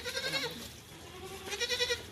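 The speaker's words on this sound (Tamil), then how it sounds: "இது வந்து என்னோட ஆட்டுக்குட்டி, ஒரு பாய் ஆட்டுக்குட்டி தான்" A young male goat kid bleats in two wavering calls, one at the start and another near the end, close and clear with a short pause between.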